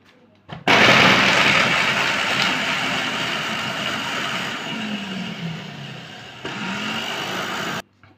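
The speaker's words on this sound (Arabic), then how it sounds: "هضربهم وانعمهم في الكبه" Food processor grinding garlic and onion for kibbeh, a loud continuous motor whir that starts abruptly, runs steadily with a brief dip near the end, then cuts off.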